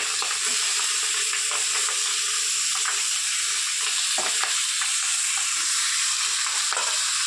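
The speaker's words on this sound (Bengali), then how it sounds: "একটু ভেজে নিলে মানে মাছটা আরও খেতে ভালো লাগে, সেজন্য মা একটু ভেজে নিচ্ছে এটা" Fish fries in hot oil in a pan, a steady, loud crackling sizzle that hisses without a break, with occasional sharper pops and light clinks rising above it.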